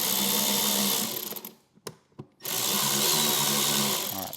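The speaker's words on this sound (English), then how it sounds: "now I'll tighten the 2 middle ones" Power tool tightening bolts on the lid of a Harley CVO Street Glide, a loud steady whirring buzz that stops for about a second with a few short bursts, then runs on again, close and without talk.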